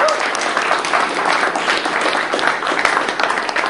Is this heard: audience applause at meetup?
yes